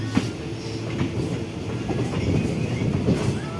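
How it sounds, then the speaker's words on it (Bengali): A train departing on the Sealdah–Bangaon line, a steady rumble with rhythmic clickety-clack of wheels on rail joints, heard fairly close and continuous from a nearby platform. "ওই যে ট্রেন বেরিয়ে যাচ্ছে"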